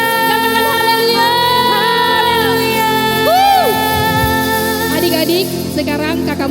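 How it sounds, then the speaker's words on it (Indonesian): Crowd of children cheering and shouting at a church children's service, lively and continuous, with a few rising whoops standing out over the noise. "Tepuk tangan yang meriah buat Tuhan Yesus."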